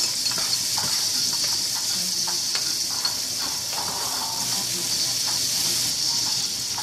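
Tomato, celery and carrots sautéing in a pan with a steady bright sizzle and hiss, plus occasional soft stirring scrapes and ticks.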